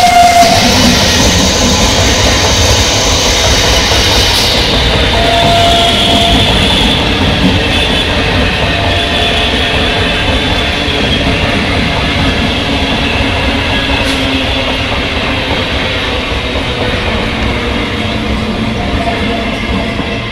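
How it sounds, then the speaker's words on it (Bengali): A Sealdah local passenger train, the up Sealdah–Gede and down Kalyani Simanta–Sealdah services, rumbles steadily past near Shyamnagar railway station, loud and close with continuous rolling wheel noise and faint clatter throughout. "দেখতে পাচ্ছেন জগদ্দলের দিকে যাচ্ছে 31915 up Sealdah Gede local 31320 down Kalyani সীমান্ত শিয়ালদা লোকাল"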